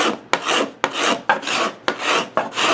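A hand-held cabinet scraper drawn across a wooden board makes a series of about six rough, rasping strokes, each beginning with a sharp bite and trailing off in a steady shave, close and alone.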